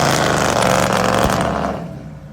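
Heavily modified 1979 Pontiac Trans Am pro street car with a fresh engine: a loud, deep, rumbling idle or rev that is close and steady before easing off slightly at the end, with no talking.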